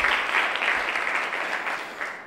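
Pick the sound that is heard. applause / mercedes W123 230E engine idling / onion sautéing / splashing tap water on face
applause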